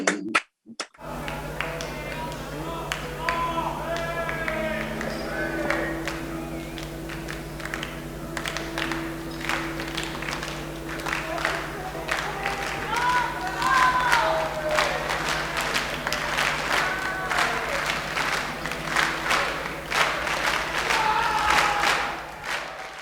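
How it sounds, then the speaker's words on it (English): At the Lyceum Ballroom, a Grateful Dead audience claps out the Bo Diddley beat in unison, steady rhythmic crowd clapping for about twenty seconds. A sustained instrument tone lingers underneath it. "the audience starts clapping the Bo Diddley beat"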